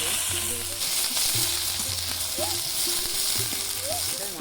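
Cumin and onion frying in oil in a wok, a continuous crackling sizzle with periodic stirring scrapes and faint background hum.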